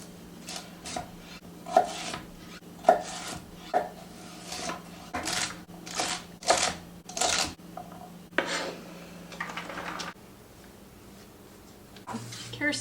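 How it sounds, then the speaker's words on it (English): A knife chops through celery sticks on a cutting board, giving a series of crisp, irregular chops and clacks, close and fairly loud, that pause near the end before a few last cuts. "I do not usually just eat celery sticks for snacks, so I'm just gonna cut all of these up"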